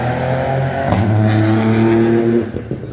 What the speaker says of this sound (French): La première féminine s'est lancée, Mireille Piluera, la pilote suisse, avec Manchester Rally 3, voiture de la classe Rally 3 engagée